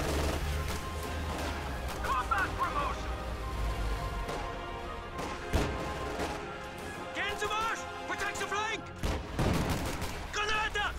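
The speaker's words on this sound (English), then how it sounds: "A good burst from the top mount, 50 cal." A .50 caliber machine gun fires bursts in a video game battle, with dense overlapping gunfire and crashes mixed under steady commentary talk throughout.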